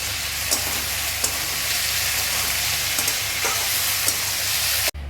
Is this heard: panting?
no